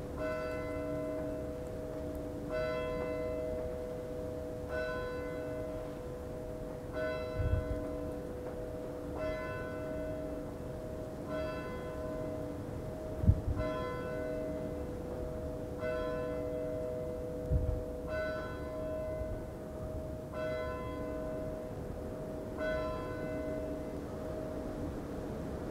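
A single bell tolls at a slow, even rhythm, about ten strikes with ringing tones that hang between them, heard from a distance over a soft outdoor background with a few low thumps.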